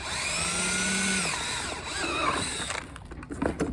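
A power drill whirs steadily through plastic brackets held in a box, its pitch shifting as it bites, then stops, leaving a few rattling clicks and handling noises.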